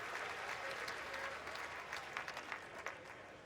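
A crowd at a college baseball Super Regional game between Texas and Houston keeps up steady applause, with a few louder claps and cheers rising near the end, heard at a moderate distance.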